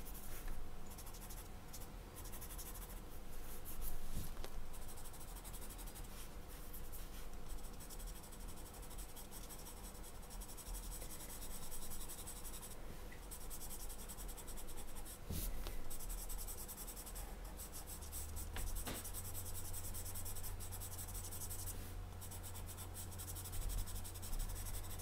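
Dry chalk pastel pencils scratch steadily across paper in a continuous soft rasp with small irregular strokes. A faint low hum rises near the end. No one speaks.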